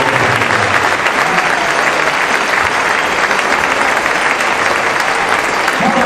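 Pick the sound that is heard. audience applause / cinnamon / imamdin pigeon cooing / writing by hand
audience applause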